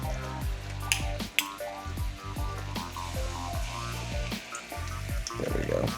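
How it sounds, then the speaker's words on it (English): A fish fillet seasoned with salt, pepper and balsamic sizzles steadily in a pan, a soft continuous crackle with a few sharp pops, while a person talks over it. "You see how everything's just kind of sizzling up together?"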